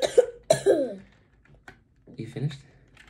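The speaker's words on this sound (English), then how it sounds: "the minute I start talking, guys, he's gonna cough again." Two loud, close coughs from a person at a computer, followed after a pause by quieter throat-clearing sounds amid faint keyboard clicks.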